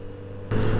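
A Kawasaki Z900 RS SE motorcycle being ridden, a steady engine drone with wind rush that abruptly grows louder and brighter halfway through, close and fairly loud, with no talk.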